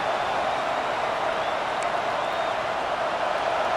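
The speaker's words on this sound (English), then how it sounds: "Listen to this crowd just shaking the girders of this place, trying to help their defense." A stadium crowd in a college football video game, Irish versus Seminoles, roars in a steady, dense wall of cheering that holds at an even level throughout with no break.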